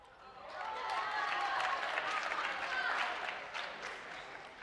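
Audience applause at a high school farewell assembly, a steady wash of many hands clapping that swells, holds for several seconds, then eases off.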